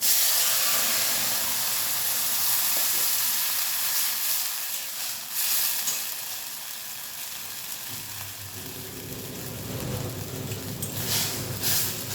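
Mustard seeds and fenugreek crackling in hot oil for a pumpkin curry, a loud dense hiss and spatter that eases slightly midway, then a fresh burst of sizzling near the end, no talk.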